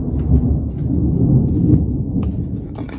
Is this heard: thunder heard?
yes